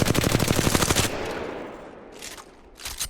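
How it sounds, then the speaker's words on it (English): Rapid automatic gunfire in Apex Legends, a weapon sprayed at a wall: a loud, fast burst of shots for about a second, then fading echo and two faint later bursts. "Just shoot onto a wall or something."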